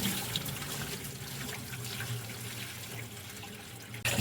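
Tap water runs steadily into a sink as glutinous rice is washed, a continuous close splashing rush with small shifts in flow and a brief clunk at the end.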